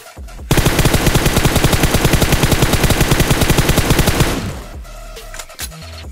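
Sustained rapid automatic gunfire in the mobile battle-royale game PUBG Mobile, a long unbroken stream of close, loud shots lasting about four seconds before cutting off to quieter game ambience.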